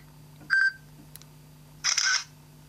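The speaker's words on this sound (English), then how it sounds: "the shutter sound is really loud on this phone, and there's no way to turn it off." Two short electronic shutter sounds from a Walkman phone camera, a brief chirp and then a louder, longer burst of synthetic clicking, separated by a quiet pause over a low steady hum.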